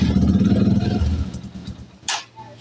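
A Rusi Classic 250 motorcycle with a weak battery turns over with rapid starter clatter that chugs for about a second, then fades and stops, followed by a short click and faint hum.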